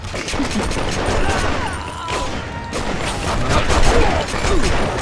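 Sustained rapid gunfire in The Punisher game, loud and dense bursts running throughout with a few booms and mechanical clatter, a voice talking faintly underneath.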